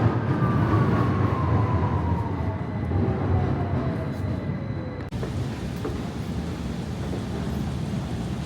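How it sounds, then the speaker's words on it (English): Train pulling into Victoria Station in London, a loud continuous rumble with a falling brake squeal that fades after about five seconds, then steady rolling noise. "We have another train coming."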